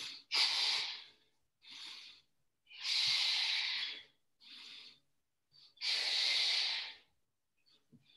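Forceful exhaled breaths during a krav maga workout, a series of loud, close hissing puffs of about one second each, with short pauses between them and no talk.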